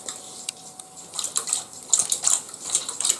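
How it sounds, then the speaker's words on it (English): A black Labrador drinks from a water bowl nearby, with quick irregular lapping splashes that grow busier toward the end. "There he is, drinking his water, and then he'll go into his room."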